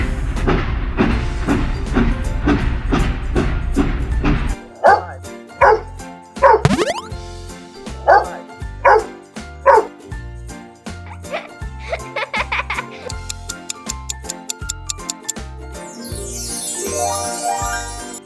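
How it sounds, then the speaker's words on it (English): A dog barks repeatedly for a children's farm-animals learning rhyme, a series of loud, distinct woofs in rhythmic bursts over a bouncy musical backing. "Dog."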